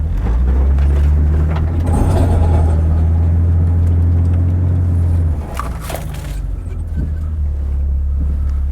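A 4WD vehicle strains under steady engine load while being pulled free with a kinetic recovery rope off-road, a loud continuous low drone with wind buffeting the microphone, easing slightly near the end.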